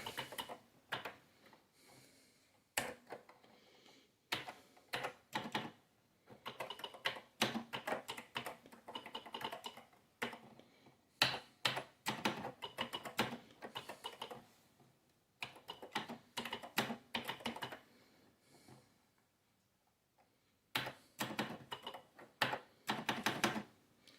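Computer keyboard typing in bursts of quick, close clicks with brief pauses, entering code for an Atari 8-bit computer; no talking.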